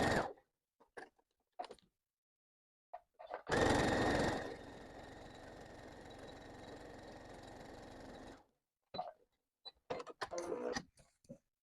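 A sewing machine stitches elastic fabric straps for a rag doll. It starts loudly, then runs in a steady mechanical whir for about five seconds, with quiet handling noises and soft clicks before and after.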